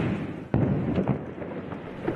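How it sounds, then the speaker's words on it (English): Israeli strikes on the southern Lebanese coast: a sharp thudding blast stands out, followed by several fainter distant booms over a steady rumbling background. "Israeli strikes pummel the southern Lebanese coast, with smoke bellowing from the hillside."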